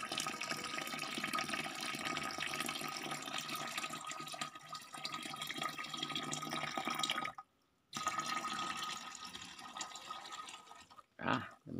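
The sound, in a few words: pouring Jadam sulfur fungicide solution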